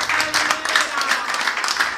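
Church congregation applauding during a Spanish-language sermon, a steady two-second wash of dense clapping that holds at an even level throughout.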